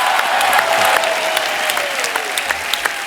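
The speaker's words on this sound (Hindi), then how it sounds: "हमारे रोनित साहब के लिए पहले तो जोरदार तालियां।" A studio audience on the Kapil Sharma comedy show claps loudly and continuously, with a whistle gliding through the dense applause.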